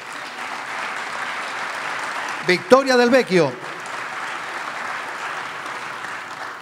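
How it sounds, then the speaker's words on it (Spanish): Audience applause for a junior athlete nominated at a 2021 sports awards ceremony, steady clapping throughout with a voice announcing a name over it partway through. "Fuerte el aplauso para ella."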